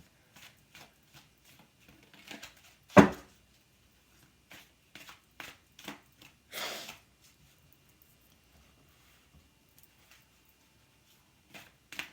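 Tarot cards shuffled and cut by hand, soft riffling and flicking in scattered short bursts, with one sharper snap and brief rustles amid near silence.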